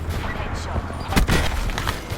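Gunfire crackles in Call of Duty: Black Ops 4, a short burst of sharp, loud shots clustered near the middle amid game noise.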